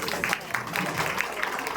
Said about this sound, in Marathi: त्यांच्यासाठी टाळ्या वाजवूयात